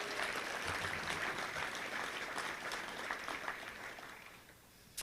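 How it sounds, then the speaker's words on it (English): Applause for the Touchdown Club volunteer team at a Little Rock Touchdown Club gathering, a steady round of clapping from a seated audience that holds for several seconds and then tapers off. "Let's give them, our Touchdown Club team, a great round of applause."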